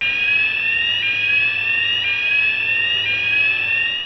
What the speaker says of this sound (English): In case you hear this fire alarm, you must immediately evacuate to the assembly point.